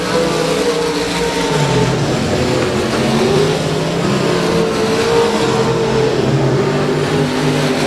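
Race cars roar around the Rose Bowl Speedway track, their engines blending into a loud, continuous drone that rises and falls as the cars pass.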